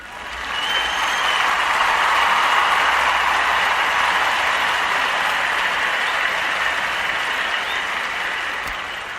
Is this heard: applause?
yes